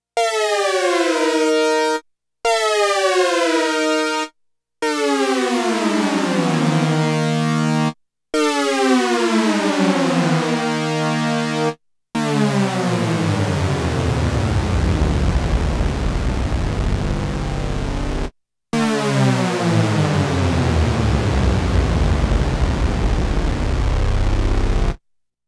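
The oscillators of an Oberheim OB-X8 synthesizer glide together in pitch in repeated downward sweeps, slightly detuned as they travel, with brief gaps between the loud, dense, brassy swoops and no voice.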